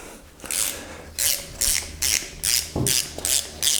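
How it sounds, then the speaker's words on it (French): Ratchet wrench working rusted bolts loose on a 1.9 litre Peugeot 205 GTI engine, about seven bursts of rapid clicking at a steady rhythm, close and fairly loud with brief gaps between strokes. "Je vais utiliser le plus gros cliquet."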